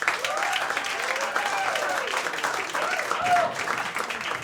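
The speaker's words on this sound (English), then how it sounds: "Clap it up." Comedy club crowd at The Laughing Skull claps steadily to welcome a stand-up comic, an even wash of hands over a few seconds with a host's voice faintly over it.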